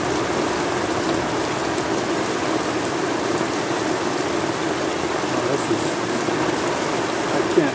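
Steady, dense storm rain hisses continuously, loud and close, with no breaks across the whole stretch.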